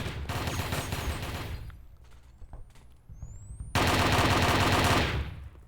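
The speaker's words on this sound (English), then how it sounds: "Lots of trading fire all across the map." Video game gunfire traded across a large multiplayer Warzone map, with sustained bursts of rapid automatic fire, a quieter gap holding scattered distant shots, then another loud, dense barrage.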